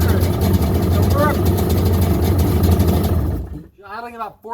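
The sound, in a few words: 1996 Sea-Doo GTI engine idling at about 1400 rpm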